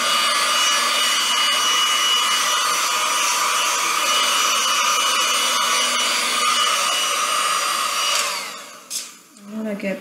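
A heat gun blows a steady, loud, close whooshing roar while warming resin on coasters, cutting out briefly near the end.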